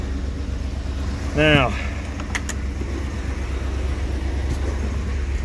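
A vehicle's engine runs steadily and close by while it is shifted into reverse, with a brief whining, clunking transmission sound partway through and a man's short spoken word.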